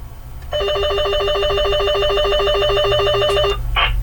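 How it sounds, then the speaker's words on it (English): A walkie-talkie rings with an incoming call from another unit, a steady rapid electronic trill that runs for about three seconds and then stops abruptly. "You can hear the ring in the background."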